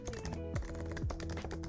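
Quick, steady typing of code on a computer keyboard, soft close keystrokes in an even rhythm with a faint background hum and no speech.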